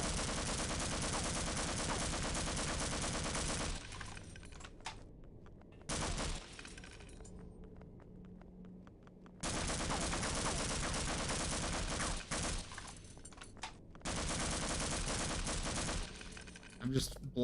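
Sustained loud gunfire in the hardcore Half-Life mod NO - HOPE, dense bursts of shooting filling long stretches, broken by short quieter gaps before firing resumes.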